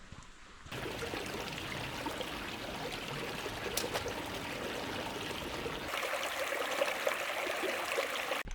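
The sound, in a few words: small creek flowing in Zion National Park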